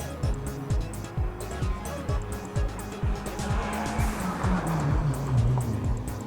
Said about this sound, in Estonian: Selle mootor nagu laulab päris hästi